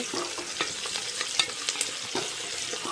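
Onions lightly sautéing in a pan for biryani, a close bright sizzle with quick scraping stirs and small crackles throughout, no speech.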